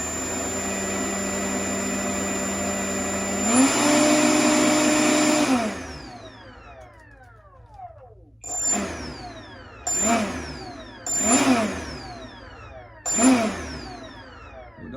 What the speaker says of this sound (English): 70 millimeter out of the Habu